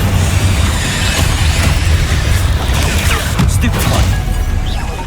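Incendio fire spell in Hogwarts Legacy, a loud roaring burst of flame mixed with heavy crashing combat impacts and booms, dense and continuous over several seconds with a few sharp hits near the end.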